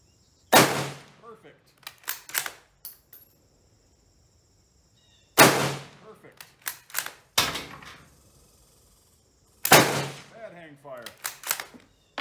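A surplus rifle fires Bulgarian 8mm military ammunition in three loud, sharp shots spaced several seconds apart. Each shot is followed by metallic bolt clacks and ejected brass as the rifle is cycled.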